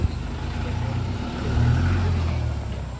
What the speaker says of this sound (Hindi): So ये अंकुर की गाड़ी थार CRD